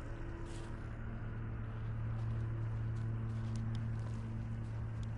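Horse hooves clip-clop at a steady pace in the video game The Witcher 3, a soft rhythmic patter over a constant low droning background, with no talking.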